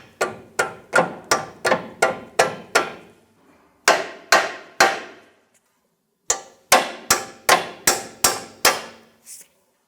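A hammer taps a control arm bolt into place on a Jeep Compass, about twenty sharp metallic strikes in quick bursts of steady rhythm with brief pauses between them, close and ringing.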